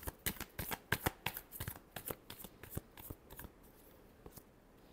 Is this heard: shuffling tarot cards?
yes